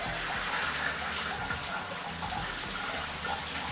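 Shower water runs steadily from a tankless water heater, a continuous broadband hiss of spray with no pauses or talk.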